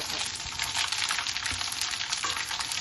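Cumin, mustard seeds and chillies frying in hot oil as tempering for a green chilli mango pickle, a dense, continuous sizzle with fine crackles, close and steady from start to end.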